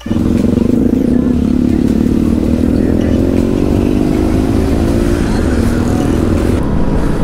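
A group of motorcycles, including a Benelli TRK, Honda CBR and Yamaha, rides out together on a Sunday breakfast ride in Punjab, engines droning steadily and loudly with close wind noise throughout.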